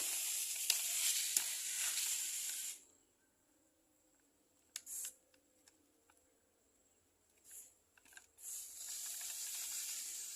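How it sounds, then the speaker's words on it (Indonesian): A hand spray bottle mists leaf shine onto an aglaonema houseplant, giving long hissing sprays at the start and end with a few short puffs in between, close and clear. "Tinggal kita semprotkan ke tanaman kita."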